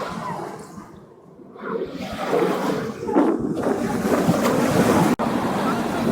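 Small sea waves wash onto the beach at Lyubimovka on the north side of Sevastopol, a steady rushing surf with wind buffeting the microphone, loud and close.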